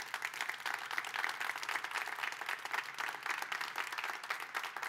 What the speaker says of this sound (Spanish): Dale un aplauso a Jesús.